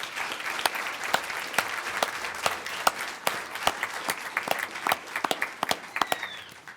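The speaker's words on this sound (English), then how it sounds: "So I'd like for us all to give Linda one last round of applause as my inspiration." A modest audience at a school board meeting gives Linda a final round of applause, sparse distinct claps from a small group, individual hands audible, continuing for nearly seven seconds.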